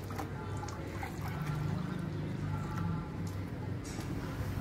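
Water poured from a bucket over thick betel leaf stalks, a steady low splashing trickle running through the whole stretch at close range, with no voices over it.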